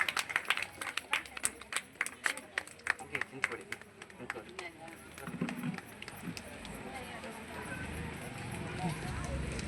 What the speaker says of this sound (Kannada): ಜೋರಾದ ಚಪ್ಪಾಳೆಯೊಂದಿಗೆ ಧನ್ಯವಾದಗಳು.